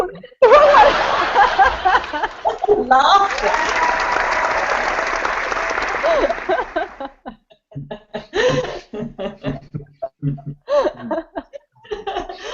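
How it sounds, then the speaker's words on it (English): Audience applause on a wisdom and laughter program, a dense burst for several seconds that then breaks into scattered laughter and voices, with people talking and chuckling afterward. "There should be applause then, applause"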